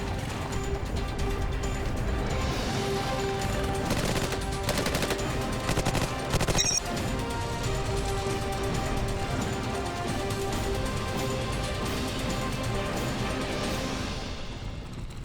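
Sustained bursts of weapon fire from a platform-mounted gun, dense rapid shots running almost continuously at close range, loud and harsh without talk.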